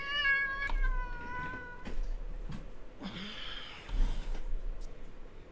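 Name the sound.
cat meowing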